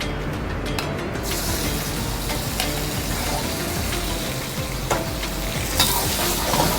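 Roma tomatoes frying in a hot pan give a loud, steady sizzle, with occasional scraping clicks from stirring, close up and with no talking.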